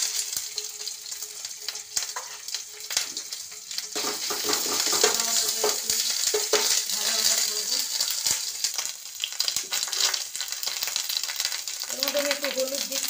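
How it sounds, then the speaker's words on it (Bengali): Ginger paste fries in a wok of hot oil with whole garam masala, bay leaves and cumin, a loud continuous sizzle punctuated by sharp spatula scrapes and clinks against the pan. "ওগুলো ভাজা হয়ে গেছে, এবার আদা বাটা দিচ্ছি।"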